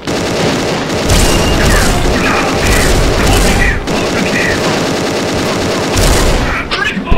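A Love Dream RFB gel blaster fires in long, loud, rapid bursts with brief pauses between them, close to the listener, while someone talks over the shooting.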